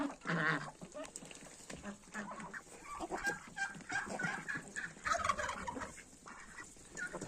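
Several domestic farmyard ducks quack and chatter together, close by and fairly busy, in overlapping calls with no speech.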